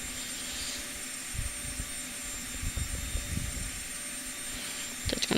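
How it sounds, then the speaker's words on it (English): Simulated Boeing 737 jet engines during pushback in X-Plane 10, a steady moderate whine and broadband roar with faint tonal hum, broken by scattered low rumbling thumps and a brief rattly burst near the end, with no talk. "during the pushback, you can start your engines"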